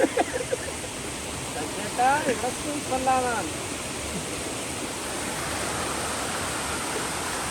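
Steady broadband rush of falling water at Keralamkundu Waterfalls in Kerala fills the whole clip, with brief voices talking over it near the start.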